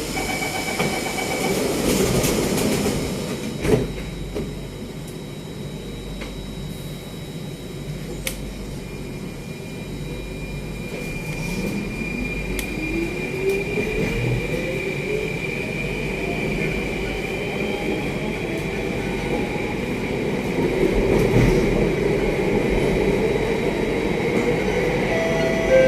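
Singapore SMRT C830 metro train running between stations, with a continuous rumbling ride and a rising and falling whine of motors, heard from inside the carriage along with a brief recorded announcement.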